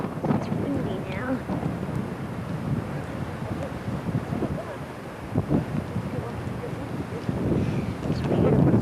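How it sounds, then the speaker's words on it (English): Steady wind roars and buffets across the microphone outdoors in London, a constant rumbling gust that swells louder toward the end. "It's windy now."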